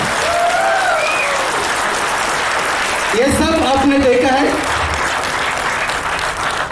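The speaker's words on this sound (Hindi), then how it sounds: "उनके लिए जोरदार तालियां।" Steady applause from an audience at a film teaser launch event fills the whole stretch, with a voice speaking over it midway through.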